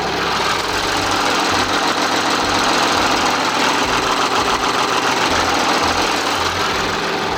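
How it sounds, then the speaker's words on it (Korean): Steady, even rumble of an Audi A6 40 TDI quattro diesel engine idling with the hood open, heard up close, loud and continuous with a smooth regular hum and no other sounds. "바로 이 차량 엔진 사운드 가까이서 들려드리도록 하겠습니다."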